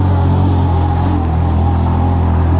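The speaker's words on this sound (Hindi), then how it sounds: "शुक्र है यहाँ चढ़ रही है बाइक" A motorbike labours uphill on an off-road track toward Chunda Valley near Skardu, a loud, close, unbroken low engine drone with steady pitch.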